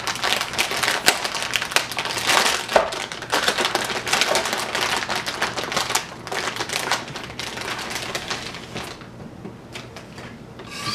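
Packaging for PC parts, a high-end graphics card box, being opened: continuous crinkly rustling, tearing and cardboard scraping up close, with busy irregular bursts that thin out toward the end.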